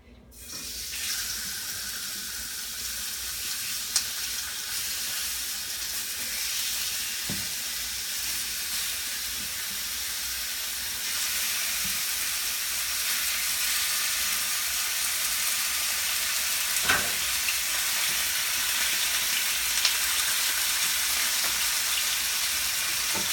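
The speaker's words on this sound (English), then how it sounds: "So you can tell it's really sizzling." Chicken sears in a hot pan with a steady, even sizzle that hisses continuously and grows slightly louder partway through, with no talking.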